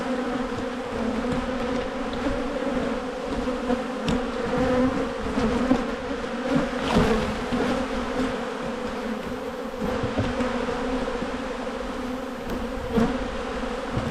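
Honey bees buzz steadily around an open hive during a split, a dense, continuous drone close by with individual bees flitting past now and then, no voices.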